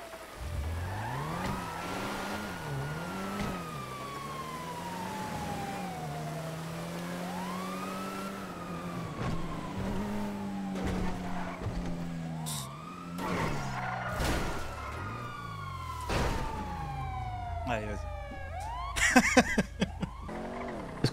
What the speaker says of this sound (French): J'entends des sirènes.